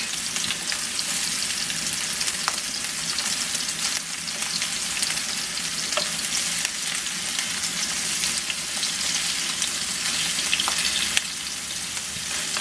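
Bacon ribs, still warm from earlier cooking, fry in a pan of hot oil with a dense, even, continuous sizzle that stays loud and close throughout, punctuated by faint pops.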